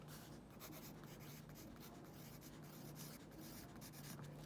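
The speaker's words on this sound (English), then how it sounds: "I'm going to write my answer." Pen or pencil scratching on paper while a homework answer is written by hand: a soft, close, steady rubbing with quick strokes and no talking.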